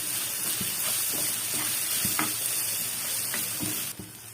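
Spices with garlic paste, turmeric and chili powder fry and sizzle for a snakehead fish curry, a steady close hiss broken by repeated soft stirring scrapes.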